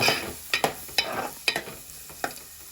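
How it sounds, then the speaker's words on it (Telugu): Onion pieces and green chillies fry in hot oil until golden brown, a close sizzle broken by several sharp stirring scrapes of a spoon against the pan. "అదే ఆయిల్లో ఉల్లిపాయ ముక్కలు పచ్చిమిరపకాయలు వేసుకుని గోల్డెన్ బ్రౌన్ కలర్ వచ్చేదాకా అయితే మనం ఫ్రై చేసుకోవాలి"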